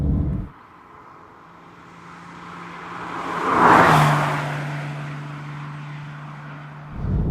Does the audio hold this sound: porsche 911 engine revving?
yes